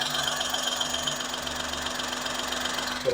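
A 2015 Maruti Alto 800 small car engine idles steadily, recorded close to the engine bay, giving a constant, even hum with a faint regular pulse and no voices over it.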